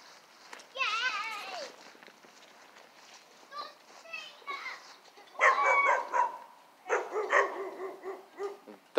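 Dogs barking near a home yard in a series of sharp, loud bursts, interspersed with children's voices and some footsteps, with quieter gaps between barks.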